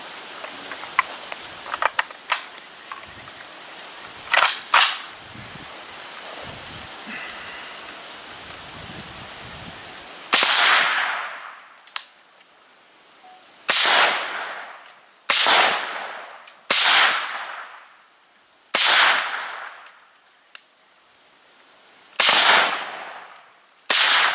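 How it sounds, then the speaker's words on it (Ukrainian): Suppressed AK-74 rifle shots in 5.45mm, fired one at a time about every one to two seconds, each a sharp, loud crack with a short decaying tail, following a stretch of quieter scattered clicks and handling noise. "Зараз ми з вами спробуємо випробувати його на зброї АК-74."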